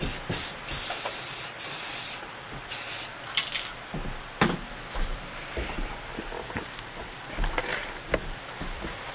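Aerosol spray paint hissing onto pieces as a tack coat, in several short close bursts with brief gaps, then quieter intermittent spritzes and handling clicks.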